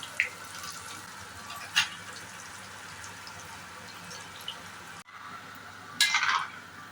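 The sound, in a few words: liver pieces frying in hot oil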